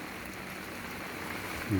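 Steady afternoon rain makes a faint, even hiss throughout, and a voice cuts in briefly at the very end.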